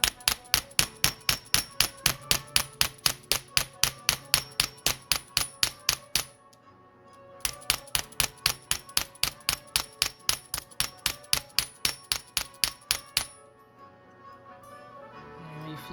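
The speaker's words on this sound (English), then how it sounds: "And hammer the other side." Copper being hammered on a stone block while forming earrings: loud, steady, evenly spaced metallic strikes in two long runs, separated by a brief pause, close and without talk.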